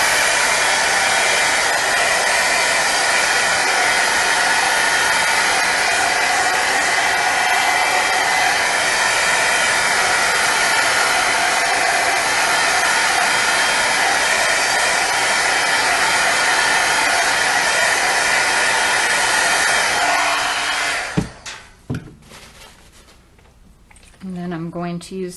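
A hair dryer blowing steadily to dry paint between colours on an art journal layout, a loud continuous close whoosh that cuts off near the end, followed by quieter handling sounds.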